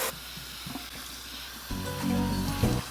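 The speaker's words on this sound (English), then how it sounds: "I do let my ends hang freely and then I rinse this out" Water running while shampoo is rinsed out of natural curly hair, a hissing, splashing stream that grows louder and fuller partway through.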